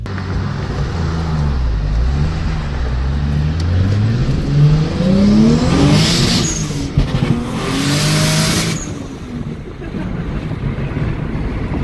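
A Toyota MR2 engine revs repeatedly while driving, pitch climbing and dropping through gear changes, with heavy wind rushing over the microphone.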